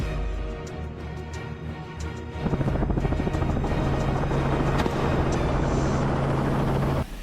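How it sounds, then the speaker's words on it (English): A helicopter flies low, its rotor blades beating in a loud, steady rhythmic chop that grows heavier partway through and holds close and powerful until it cuts off. "He dropped the helicopter lower, the rotor blades whipping up dust and debris,"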